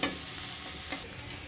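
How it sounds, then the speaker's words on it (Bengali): Onions frying and being stirred in a pan with oil, a steady close sizzle with a soft scrape of stirring, heard alone without talk. "পেঁয়াজটা মোটামুটি ভাজা ভাজা হয়ে গেছে"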